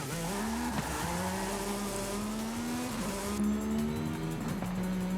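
A high-revving futuristic hypercar engine in Forza Horizon 5 roars steadily, pitch climbing and dropping through gear changes in repeated surges, with no voices.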